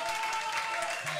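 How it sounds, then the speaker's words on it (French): Brief burst of crowd applause at a religious debate gathering, steady clapping with voices audible underneath. "On applaudit également pour l'apôtre Moïse Giscard Panzi."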